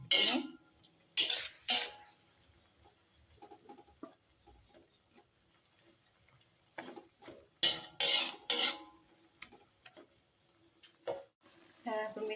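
Teriyaki chicken stirred in a pan, with repeated scraping and clattering strokes of a utensil against the metal, close and distinct, separated by quieter simmering pauses.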